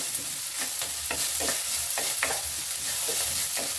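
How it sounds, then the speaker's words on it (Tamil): Onions sautéing in a pan for a ridge gourd and dried anchovy curry, a steady close sizzle broken by repeated scraping stirs of a spatula, with no talking. "இது கொஞ்சம் அப்படியே நல்லா வந்து வதங்கி வரட்டும் இந்த வெங்காயம்"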